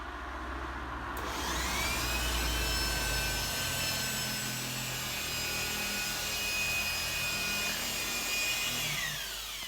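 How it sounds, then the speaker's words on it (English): A machine polisher runs at low speed on car paint with a steady whirring hum and a rubbing, brushing texture. It spins up after about a second and stays close and constant, with no talking. "So when you are machine polishing,"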